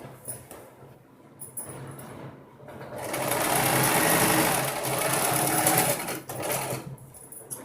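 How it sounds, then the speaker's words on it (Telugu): A sewing machine stitches a seam on a free-size maxi dress, its rapid mechanical whir quiet and intermittent at first, then running loud and continuously for a few seconds before easing off. "ఈ పీసు ఇలా వచ్చేటట్టు ఈ పక్క కుట్టేస్తున్నానండి కరెక్ట్గా."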